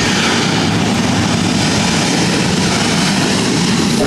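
An airplane engine at LAX airport roars in a loud, dense, continuous wash of broadband noise, close and unbroken for the whole stretch.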